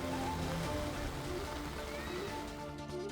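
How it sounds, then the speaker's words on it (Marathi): Heavy monsoon rain falls steadily, a dense, continuous wash of drops on surfaces that stays loud and even throughout. "जोरदार पावसाने हजेरी लावली"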